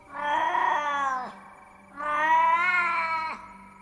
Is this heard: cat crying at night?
yes